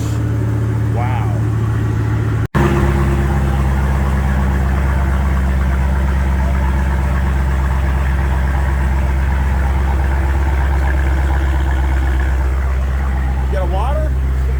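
A car's engine idling at a Sunday car meet, a loud, steady low rumble close by that runs throughout after a sharp break early on, with people talking faintly in the background.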